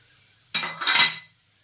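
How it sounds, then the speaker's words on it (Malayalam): A spoon scrapes and clinks once in a pan as coriander powder, turmeric, chili powder and garam masala are stirred and heated for vendakka theeyal. The short metallic scrape lasts under a second, with near silence around it. "ചെറുതായിട്ട് ഇളക്കി ഒന്ന് ചൂടാക്കണം"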